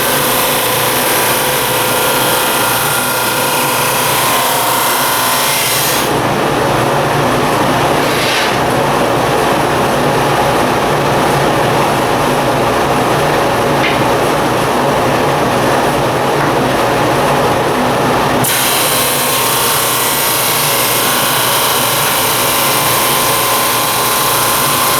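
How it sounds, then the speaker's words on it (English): Power drill boring holes in wood for a children's tower build, a loud continuous whirring that holds steady for several seconds at a time, with no talking. "I'll drill these 3 holes."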